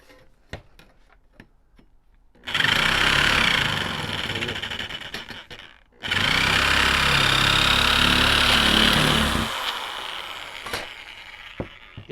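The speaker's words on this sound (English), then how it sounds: "You buy this machine right here, Genesis. It's a nibbler thing" A Genesis electric nibbler cuts through sheet metal in two long, loud stretches of harsh buzzing and chattering. A brief pause separates them, and a quieter mechanical hum follows. No one speaks.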